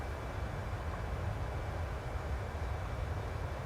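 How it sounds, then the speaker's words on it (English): PMDG 737-800 jet engines spool down in a flight simulator, a low, steady rumble with a faint whine holding evenly and quietly throughout. "Now you'll hear the engines come all the way down."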